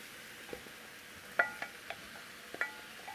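Cold day-old cooked rice tipped into a pan of frying shrimp for shrimp fried rice, giving a faint steady sizzle with a few sharp clinks and scrapes of a utensil against the pan.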